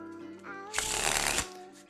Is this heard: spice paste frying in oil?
no